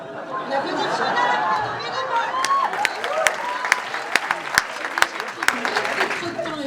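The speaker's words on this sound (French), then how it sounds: "On applaudit Fiona" At a 2025 closing ceremony, an audience claps for Fiona amid lively crowd chatter and voices, starting murmured and turning into scattered, sharp hand claps that build over several seconds.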